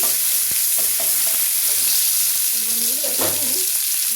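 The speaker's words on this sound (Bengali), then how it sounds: "এরপরে আমি একে একে এই যে জিরে বাটা দিয়ে দিলাম" Cumin paste hitting hot oil with bay leaf and garam masala, a loud steady sizzle and spatter throughout, with faint clinks of a spoon in the pan.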